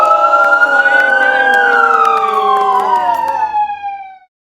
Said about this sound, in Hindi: फिर से सायरन हमेशा बजता रहता है।